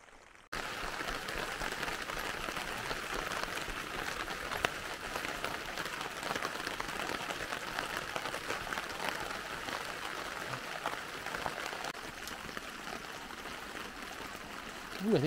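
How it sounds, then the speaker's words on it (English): Steady rain runs and drips off a camper awning during a wet camping weekend in the mountains, a constant close hiss and patter that holds even from start to finish. "as long as the awning is dripping water out the front, it means it's not going to get any heavier"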